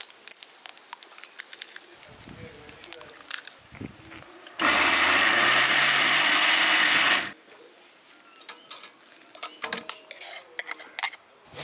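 A mixer grinder runs a single burst of about three seconds on prawns with egg, a loud whirring roar that starts and stops abruptly, between clinks and handling sounds of kitchen utensils.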